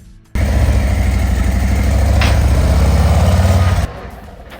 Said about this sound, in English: Now it's time to get on the bike, ride it up